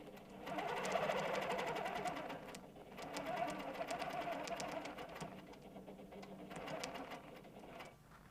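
A sewing machine stitches steadily around a shape guided by a dual edge ruler, its rapid mechanical whirr running almost continuously and close up, with brief slowdowns between runs of stitching.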